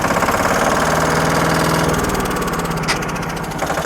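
A Captain 200DI LS 4WD mini tractor engine runs steadily and close by in second gear, with a chugging, slightly knocking rhythm, loud throughout, with a brief higher mechanical whine near the end.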